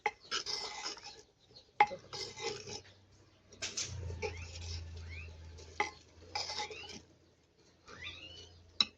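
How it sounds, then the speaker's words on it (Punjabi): Chana dal and bottle gourd are stirred in an earthen pot, giving bursts of close scraping and wet churning separated by brief pauses, with a few sharp taps of the spoon against the pot. "ਇਹਨੂੰ ਹਿਲਾ ਕੇ ਚੰਗੀ ਤਰ੍ਹਾਂ ਮਿਕਸ ਕਰਕੇ"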